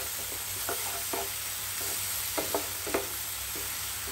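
Bell pepper curry fries with a steady sizzle in the pan while a spoon stirs it, scraping in a few short bursts against the vessel, close and fairly quiet.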